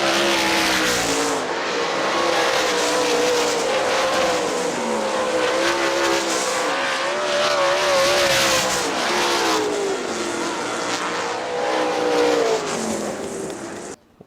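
Sprint cars from the Great Lakes Outlaw Sprint Series race at Hartford Speedway, a loud, continuous roar of several high-revving engines with rising and falling pitch as cars pass, sustained throughout without talk.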